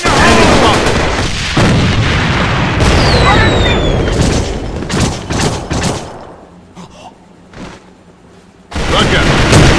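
Loud, dense gunfire and heavy booming blasts, including a grenade explosion, rip through an A.V.A. online shooter match on the Runaway map, with bursts continuing, a quieter lull, then firing resuming at full volume.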